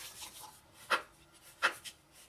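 Paper being folded and burnished for an Easter lollipop holder craft, heard as three short, crisp rubbing swipes at close range over a quiet room.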